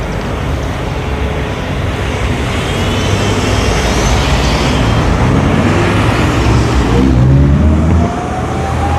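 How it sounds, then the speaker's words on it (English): A bus rumbles steadily past on a street in Freehold, New Jersey, a loud, continuous low engine and road roar that holds for several seconds, then eases slightly near the end. "He's always the same bus that comes through here and the same driver through Freehold."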